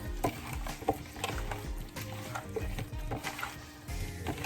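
Oxtail stew ingredients are stirred in a cooking pot, with soft scraping and clinking of a spoon against the pot in uneven strokes and a faint sizzle beneath, close and moderately quiet.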